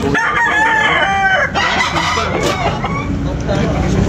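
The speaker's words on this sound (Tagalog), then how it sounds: "Guwapong manok." A rooster crows loudly and close by, its long drawn-out call ringing over other clucking fowl, with some voices in the background.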